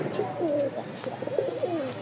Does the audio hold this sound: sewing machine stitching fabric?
no